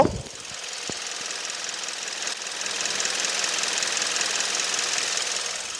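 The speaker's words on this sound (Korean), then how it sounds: "지금 엔진 소리 한번 바로 들려드릴게요" A Kia K7 2.4 GDI gasoline engine runs at a steady idle, heard up close with the engine bay open, a continuous hum with light rhythmic ticking.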